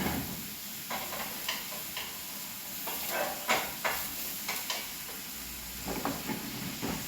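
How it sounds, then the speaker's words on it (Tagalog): Onion, ginger and garlic sautéing in a pan give a soft continuous sizzle, broken by scattered clicks and scrapes of stirring, fairly quiet and close with no talk. "Habang igigisa ko naman dito yung sibuyas, ginger, at saka bawang."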